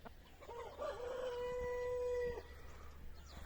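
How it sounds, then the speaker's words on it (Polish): Close up, a rooster in a home poultry flock crows once, a long, drawn-out and loud cry, over quiet background noise with a few faint clucks around it. "To jest już moja kura."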